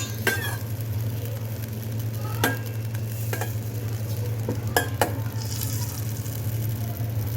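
Butter melting in a pan for semolina kheer made as baby food, giving a steady soft sizzle over a constant low hum, broken by a few sharp clicks of a utensil against the pan.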